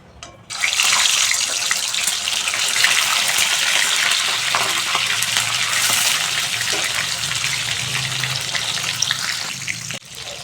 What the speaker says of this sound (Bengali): তেল গরম হয়ে গেছে, আমি আবার ডিমগুলো ভেজে নেব।